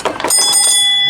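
Metal bell outside the National Museum of Transportation, ringing with a sustained bright tone and shimmering overtones that hang steadily after a couple of quick struck onsets, loud and close.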